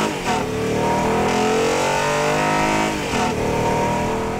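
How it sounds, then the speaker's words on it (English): A 2016 Acura TLX V6 engine revving hard to redline, its howl climbing in pitch as VTEC kicks in, dipping between shifts and rising again, loud and close. "a great howl and a notable ramp up of output and sound effects as the VTEC system kicks in"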